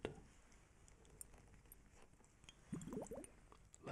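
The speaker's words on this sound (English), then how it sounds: "This little bubbling sound." Dry ice bubbling in liquid inside a glass, a soft wet fizzing and gurgling that swells in a short burst near the end after a quieter stretch, close and intimate with no talking.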